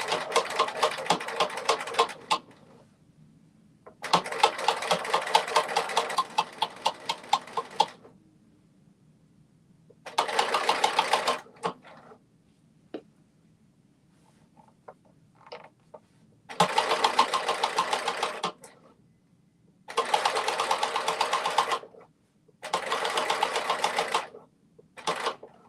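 A domestic sewing machine, a Simplicity 9159 sewing project, runs in several loud, close bursts of rapid stitching, each a few seconds long, separated by quiet pauses, including short back-stitch runs.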